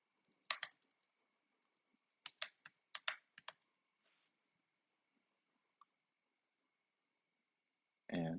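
Keys tapped on a computer keyboard while a password goes in: a short burst, a pause, then a quick run of clicks in a quiet room, ending with a louder final keystroke.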